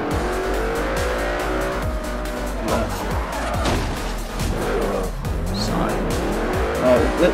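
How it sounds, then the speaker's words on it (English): McLaren race car in the Forza Horizon video game, its engine revving hard while the tires squeal and skid repeatedly through corners, loud and close, with a few quieter bursts of game sound mixed in. "It's a McLaren, and I'm currently got a car in front of me."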